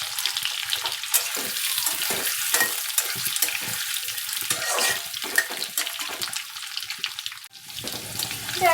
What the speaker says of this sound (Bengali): দেখো আলুগুলো একটু লাল করে ভাজা করে নেব।